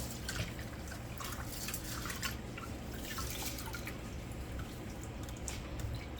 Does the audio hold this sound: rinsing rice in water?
yes